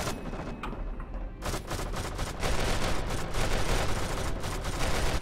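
Dense, continuous gunfire in a Goldeneye Source gun-game match, overlapping shots and explosions forming a loud, sustained barrage with no talking.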